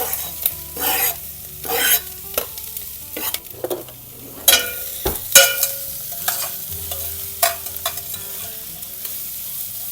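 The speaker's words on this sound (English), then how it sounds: "Now let's put our onions and garlic in the hot pan." Onions and garlic dropped into a hot pan, loud bursts of sizzling and crackle with repeated stirring and scraping knocks across the whole stretch, close up with no voices.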